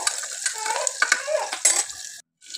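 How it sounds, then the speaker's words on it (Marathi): Cumin, onion and green chilli tempering with asafoetida in hot oil for masale bhaat sizzle close up, with scraping stirs and spatula clinks, briefly falling silent near the end. "मसाले भातसाठी मी जिरं, कांदा आणि हिरवी मिरची असं फोडणीला टाकलेलं आहे"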